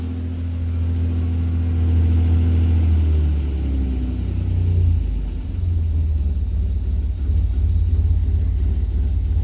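A warmed-up Austin Healey 3000 straight-six runs steadily with a deep, loud low rumble, its revs easing down partway through and settling into a lower, even idle.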